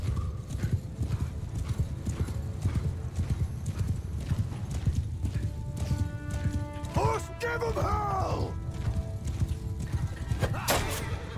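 Horses gallop and neigh amid a large cavalry clash in the Mount and Blade 2 Bannerlord video game, a steady rush of hoofbeats with several loud whinnies rising near the end, and someone talking over the battle.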